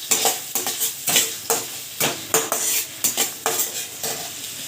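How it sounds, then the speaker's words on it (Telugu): Egg rice ingredients with green chilies fry in a pan while being stirred, close rhythmic scrapes and clinks of the utensil roughly twice a second over a soft, steady sizzle, no voices. "తిప్పుకోవాలండి. తిప్పుకొని"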